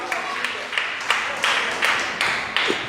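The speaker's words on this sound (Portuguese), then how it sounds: "glorifica a Deus aí com as tuas palmas" A church congregation claps in rhythm, with strong evenly spaced group claps roughly every third of a second over a steady hum of applause, fairly loud and close.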